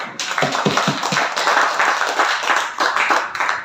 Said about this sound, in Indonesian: Itu kita beri aplaus dulu buat kita semuanya